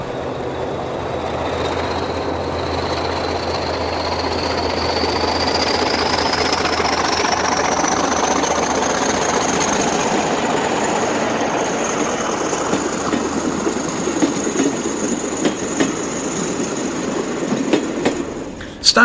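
A Portuguese railways train pulls away slowly and gradually from rest, its engine droning as a whining tone climbs steadily in pitch, with faint rail clatter building over about twenty seconds and a sharp clunk at the end.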